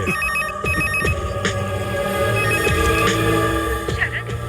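A telephone rings with a repeated electronic ringtone pattern, loud and close, layered over a dense, busy background.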